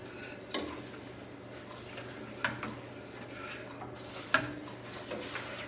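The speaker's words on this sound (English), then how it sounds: "And I'll stir that in." Spoon stirring tomato soup in a pot for canning, made from garden tomatoes: a few soft scraping clicks at spaced intervals over a low steady background hum, fairly quiet and close.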